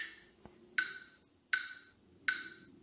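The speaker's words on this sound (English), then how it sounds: "So to practice rhythm, you need to get a metronome." Metronome app clicking in 4/4 time, three crisp, evenly spaced ticks about 0.75 seconds apart after a faint softer tap, heard alone and fairly quiet.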